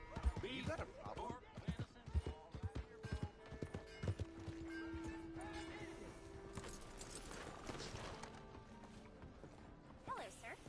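Irregular horse hoof clip-clops clatter among Red Dead Redemption 2 game sound effects and mechanical clicks, with brief voices and a sustained tone in the middle.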